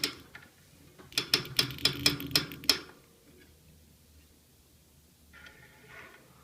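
Spokes on an old steel bicycle wheel are tightened with a rapid series of about eight sharp metallic clicks close up, followed by quiet with faint handling noises.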